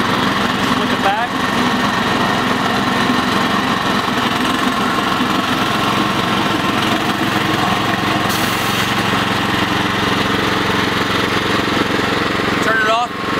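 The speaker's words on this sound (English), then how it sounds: "This one, the motor can be running and the blade doesn't spin" A Help-A-Lot powered equipment motor runs steadily throughout, a loud buzzing small-engine drone with a constant pitch, while a person talks over it.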